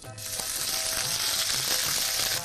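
Prepared spice mix going into hot oil with cumin seeds in a pan for an Amritsari-style vegetable bhurji, giving a loud, steady close sizzle and frying crackle throughout, with no talk.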